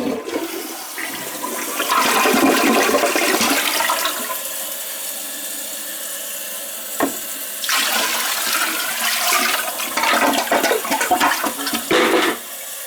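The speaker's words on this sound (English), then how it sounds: "Yeah, you can flush it now." A toilet that leaks when flushed gives a loud rushing flush with swirling water and refill gurgles, in two bursts separated by a quieter stretch, close by with no talk.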